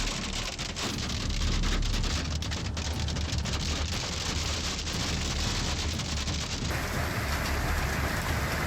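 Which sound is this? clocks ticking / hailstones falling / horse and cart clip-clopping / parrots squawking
hailstones falling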